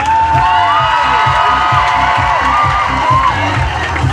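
A crowd at the Marseille Pride march cheers and whoops loudly with applause, the roar holding steady and dense throughout.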